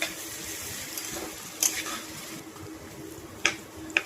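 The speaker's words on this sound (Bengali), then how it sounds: "হালকা একটু ব্রাউন করে ভেজে নেব যতক্ষণ আমার পেঁয়াজটা নরম হয়ে আসছে।" Sliced onions with salt fry in oil until soft and lightly browned, giving a soft, steady sizzle with occasional sharp spoon taps and scrapes against the pan.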